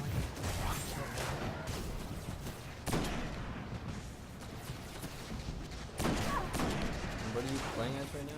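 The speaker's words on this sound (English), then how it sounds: "I'll just switch out to the sniper rifle so I can kill them." Sniper rifle gunfire in the Destiny video game, with sharp shots and a couple of heavier blasts amid busy game effects, all faint and low in level.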